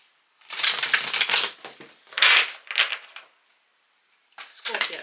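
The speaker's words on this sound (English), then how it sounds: "Oh, I'm cutting the deck." A tarot deck being cut and shuffled by hand: several close, crisp rustling riffles in short bursts separated by pauses, loud against an otherwise quiet background.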